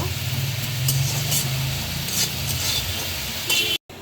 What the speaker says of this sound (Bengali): আর ডালের বড়িটা একটু হালকা ভেজে দিব।